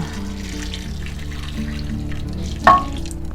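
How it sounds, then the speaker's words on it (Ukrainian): Hot water splashes and trickles steadily into a baking dish of noodle nests, with a brief louder gush near the end over a low background hum. "Тепер заливаю гарячою водою."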